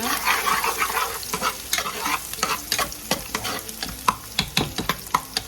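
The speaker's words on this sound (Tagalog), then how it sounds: "lagyan na natin ng bawang" Garlic sizzles in a pan for a soy-free white chicken adobo with honey, a constant frying hiss under a run of sharp, irregular stirring scrapes and taps that grow sparser toward the end; no talking.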